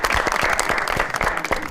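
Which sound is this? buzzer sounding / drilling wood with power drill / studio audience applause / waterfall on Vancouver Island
studio audience applause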